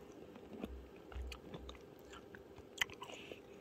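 Crispy dried tangerine is bitten and chewed close to the mouth, producing soft, irregular crunches over about four seconds with no speech.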